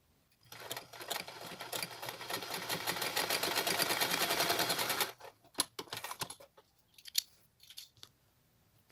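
A sewing machine stitches a seam along a folded edge in one continuous rapid whirring run of about four seconds, followed by scattered clicks and handling sounds.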